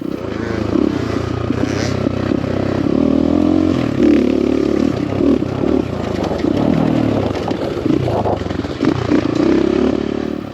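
An X Pro Templar 250cc dirt bike, about 248 pounds, rides a gravel trail, its engine droning steadily close by with surging revs and rattling clatter from the rough ground throughout.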